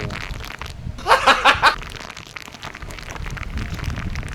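Heavy monsoon rain pours down in a broad steady hiss of drops on surfaces, with a short burst of a nearby voice partway through.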